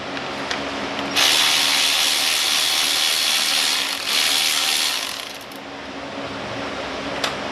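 A wrench clicks steadily as it loosens a 10 millimeter bolt holding the brake hose on a 2011 Ford F150, giving a close, continuous ratcheting rasp that fades near the end, with no talk.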